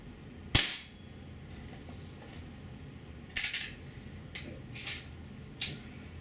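A Beeman P1 .22 caliber air pistol fires several sharp, close shots: one crack, then a quick cluster of three more cracks a few seconds later, with quiet pauses between and no talking.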